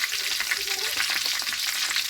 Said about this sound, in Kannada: ಸ್ವಲ್ಪ ಎಣ್ಣೆ ಇಟ್ಟಿದ್ದೀನಿ. ನೆಕ್ಸ್ಟ್ ಈಗ ಒಂದೆರಡು ಪಟ್ಟೆ ಮತ್ತು ಲವಂಗ ಹಾಕ್ತೀನಿ.